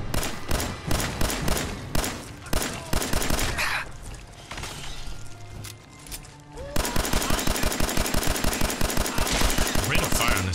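Rapid bursts of automatic gunfire from a high rate-of-fire weapon during a Fallout 4 boss fight, loud and sustained, easing off briefly mid-way before resuming in dense repeated volleys.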